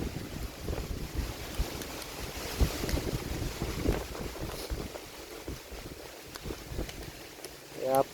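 Heavy wind buffets the microphone in gusty rumbles, with water or surf noise underneath and occasional voices mixed in.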